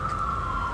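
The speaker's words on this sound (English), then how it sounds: "Every single camp, there's an ambulance that go by." Emergency vehicle siren near a Philadelphia street camp, a steady loud wail holding one high pitch over low traffic rumble, with no talking.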